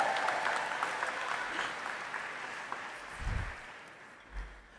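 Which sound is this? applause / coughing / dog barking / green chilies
applause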